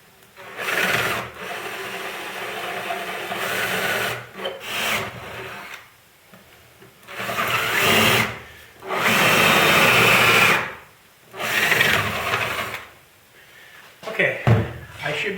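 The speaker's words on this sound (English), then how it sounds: "I can take the vise off again and finish drilling the holes." Bursts of drilling holes into a wooden bench top, several runs of a few seconds each separated by pauses, fairly loud and close, with some rubbing and handling noise between.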